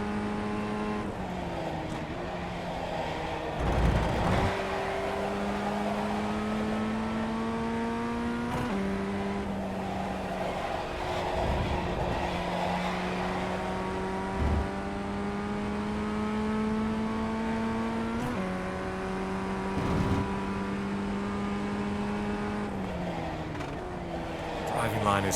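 A Ray FF1600 race car laps Okayama International in iRacing, its engine droning loudly and continuously, pitch climbing through each gear, then dropping at several upshifts and downshifts.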